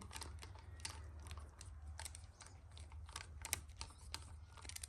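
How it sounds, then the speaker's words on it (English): A small ratchet tightens cam cap bolts on a Barra engine build. It gives quiet, rapid clicks in irregular bursts against a low background hum. "They're all tightened up with the little ratchet."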